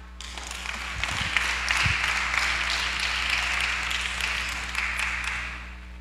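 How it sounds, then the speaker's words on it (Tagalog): A church congregation claps and applauds during a sermon on the end times, a broad steady wash of many hands that holds for several seconds at an even, moderately loud level with a low hum beneath. "Palakpak."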